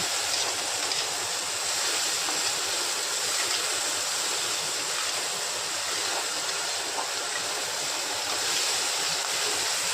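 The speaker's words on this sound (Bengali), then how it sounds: "দেখো ফ্রাই করছি।" Rice and egg frying in a pan for fried rice, a dense and even hiss that carries on unbroken for the whole stretch, close and fairly loud, with no voices.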